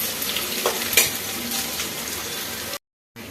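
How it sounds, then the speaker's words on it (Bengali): Chopped onions sizzle steadily in a hot pan while a utensil stirs them, scraping at intervals, close up, before the sound cuts out briefly near the end. "এবার পেঁয়াজগুলো একটু ভালো করে ভেজে নেব"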